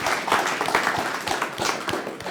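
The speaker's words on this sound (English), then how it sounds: "so a round of applause for" An audience applauds at a community launch event in Spokane, producing a brief burst of dense, lively clapping with distinct individual claps, close and moderately loud, with no talking.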